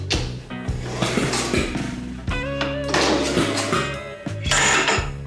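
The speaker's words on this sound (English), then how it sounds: "what you're hearing is it's actually popping back through the intake" A Honda lawn mower engine with a stuck valve runs roughly, popping back through the intake with irregular pops and sputters, loud and close, sometimes catching and stumbling.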